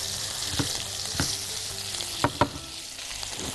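Onions fry in a pan on a home stove with a steady sizzle, broken by several sharp scraping clicks as a spoon stirs them.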